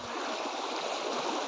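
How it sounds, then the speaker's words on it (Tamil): Water flows steadily along a canal, a continuous close rushing and babbling stream sound with no voices. "பாருங்க எவ்வளோ தண்ணி போகுது."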